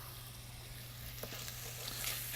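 Celery and small diced carrot sweat in a hot pan with a soft, steady sizzle that continues unbroken, joined by a few faint clicks and stirring sounds toward the end.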